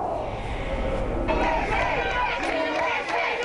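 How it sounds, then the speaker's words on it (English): A crowd outside a Staten Island tanning salon whoops and shouts in a rolling, dense roar, raised voices overlapping continuously with a swell of cheering partway through. "crowds cheered as a defiant tanning salon owner opened his doors"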